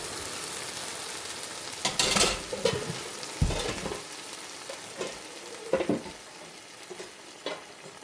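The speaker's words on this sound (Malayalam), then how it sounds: "ഇനി നമുക്ക് നമ്മുടെ കടലയും ഇതിലോട്ട് ചേർത്ത് കൊടുക്കാം കേട്ടോ" Chickpeas go into a frying curry masala and are stirred in, producing a continuous sizzle under scattered scraping and clattering spoon strokes against the pan, close by and with no voices.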